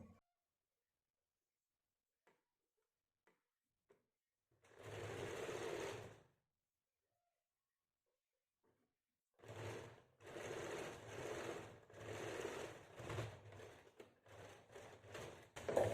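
A sewing machine stitches a kameez, running in one short burst and then a longer stretch of several close, steady runs with brief pauses, loud and alone with no talk.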